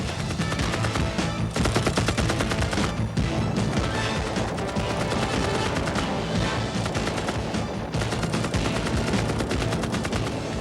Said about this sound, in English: Return fire from the riverbank indicates a larger force supporting the crossing.